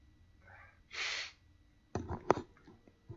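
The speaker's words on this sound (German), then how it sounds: "Jetzt muss ich hier die ganze Zeit niesen" A person sneezes with a short breathy build-up, then a sharp, loud burst, and a second snorting sneeze or sniff follows, close and alone.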